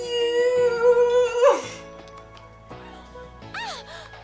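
Pepita, a dog in the game Trauma Center: New Blood, gives a drawn-out howl that turns into whining and a few high yips, alone and close, above a soft musical background.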